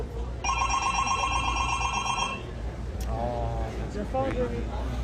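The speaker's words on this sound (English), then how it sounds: "That's not my ringtone." A mobile phone ringtone rings loudly in a repeating electronic pattern for about two seconds, then cuts off, followed by people talking with background chatter at a car crash simulation event.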